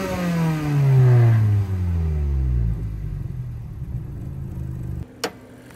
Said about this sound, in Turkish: Aracı çalıştırıp bir de motorunu göstereyim.